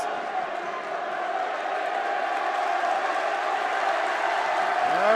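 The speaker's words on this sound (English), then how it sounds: "They're over there cheering." Crowd noise from a section of fans at a Walsh vs St. Vincent-St. Mary boys high school basketball game, a steady loud roar of cheering and chatter that builds slightly through the clip.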